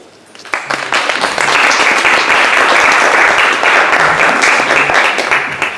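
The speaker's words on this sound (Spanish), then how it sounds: "te brindamos un fuerte aplauso" An audience at an academic panel on photography and nonfiction film breaks into strong sustained applause after a quiet start, dense clapping that holds steady to the end.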